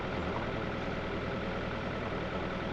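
A narrowboat engine runs steadily at revs, a constant low droning rumble with no change in pitch, close and alone.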